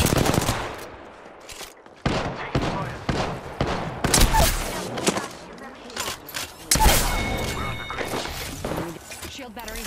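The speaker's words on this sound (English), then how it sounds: "Listen up, I'm getting shot at." Gunfire in the battle royale game Apex Legends: loud, close rapid bursts and single shots with impact cracks, dense and overlapping over about ten seconds, with game voices talking underneath.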